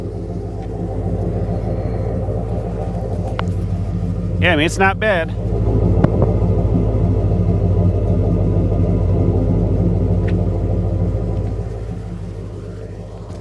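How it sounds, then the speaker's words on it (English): A car engine fitted with a new exhaust system idles at a steady, low rumble throughout, close by, while a person talks briefly over it and a short sharp squeal cuts through midway. "I can hear the engine running"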